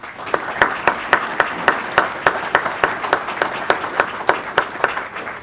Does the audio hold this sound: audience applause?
yes